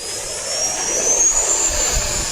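A Freewing Hongdu L-15 Falcon RC jet takes off from a rough field with no flaps. Its ducted-fan engine gives a loud, steady, high-pitched whine that slowly rises over a rumbling roll.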